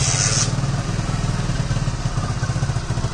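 A used motorcycle engine idling steadily after a kick start, a close low rhythmic putter with mechanical clatter that holds even throughout.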